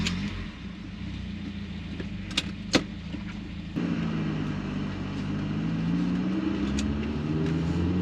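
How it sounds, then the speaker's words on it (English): A 1988 BMW E30 M3 engine drones steadily from inside the car while driving, with a low rumble that rises in pitch under acceleration and a few brief clicks and knocks partway through. "We're gonna take our 1988 BMW M3 for a quick drive."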